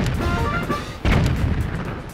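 Ship cannon in The Legend of Zelda: The Wind Waker fires once, a loud booming blast that lands over steady game background sound and then rumbles on in its wake.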